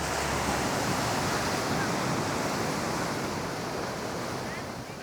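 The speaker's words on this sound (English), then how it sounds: "Big waves. Big waves, yeah, quite big." Big ocean waves crash and roar on a beach at Divi Beach after Tropical Storm Franklin, a continuous heavy surf wash mixed with wind buffeting the microphone, steady and fairly loud throughout.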